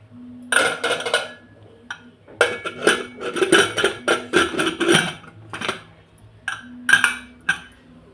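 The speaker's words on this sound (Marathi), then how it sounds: "कुकरचं झाकण लावून घेऊ आता" A metal pressure cooker lid is handled and fitted onto the cooker in a home kitchen, giving a run of close, loud clanks and clinks with short pauses between them.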